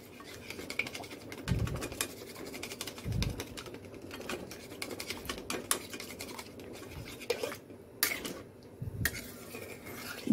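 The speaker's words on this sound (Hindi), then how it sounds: "अब इसे अच्छे से चलाना है जब तक ये दूध अब्सॉर्ब नहीं कर ले दाल" Moong dal halwa being stirred with milk in a pan, a spoon scraping and tapping against the metal in irregular soft strokes, quiet and close, with no talking.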